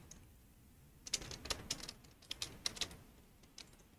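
Quick bursts of keystrokes on a computer keyboard typing a short chat message, close and crisp, with a brief pause midway and no talking.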